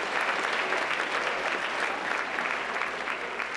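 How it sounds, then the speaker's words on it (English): Audience at the White House Correspondents' Association dinner breaking into dense, sustained applause, a loud wash of clapping hands filling the room throughout. "Give her a round of applause"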